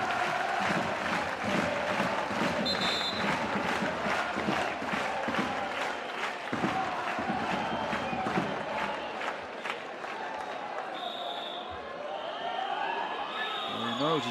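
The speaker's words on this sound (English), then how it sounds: "He'll get a huge round of applause as he goes to the bench." A basketball arena crowd during a EuroCup game applauds and cheers steadily as a fouled-out player heads to the bench, the sustained roar continuing under occasional whistles and shouts.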